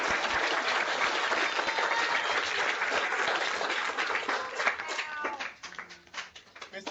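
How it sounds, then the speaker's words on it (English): A crowd applauds a Pro Football Hall of Famer with sustained, lively clapping that thins out toward the end as individual claps become distinct. "let's give a round of applause to Pro Football Hall of Famer Mr. Joe Greene."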